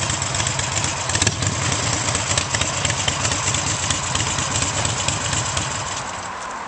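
A motorcycle with a blown exhaust idles loudly and steadily nearby, its low, rough, throbbing note holding even throughout.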